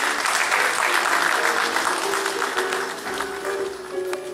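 Dense, steady applause fills a hall at a presentation of candidates for a federation election, loud and continuous, tapering slightly toward the end while a voice speaks briefly over it.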